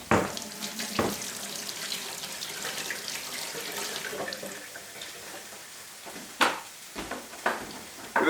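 A kitchen tap runs water over a fennel quarter being washed, a steady splashing stream with sharper spatters and knocks as the fennel moves under it, close and fairly quiet with no talk.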